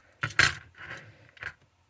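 A slimmed-down keyring of keys jangles in two short close metallic bursts and a softer shake, with no talking.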